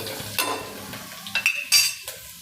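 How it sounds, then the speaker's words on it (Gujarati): Coriander seeds and stems hit hot oil in a pan, a few quick sizzling bursts and clinks of a spoon stirring against metal, close and short with quiet gaps between. "ધાણા અને ધાણાની દાંડલી બે નાખી દેવાની"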